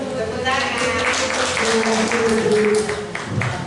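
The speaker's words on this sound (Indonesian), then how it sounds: "Tepuk tangan." Audience applause at a school teachers' gathering, continuous and moderately loud, mixed with voices and background chatter throughout.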